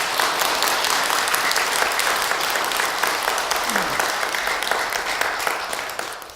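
Sustained audience applause fills a Buddhist temple during a sermon on Buddha's Enlightenment Day, loud and dense clapping from a large crowd that fades slightly at the end.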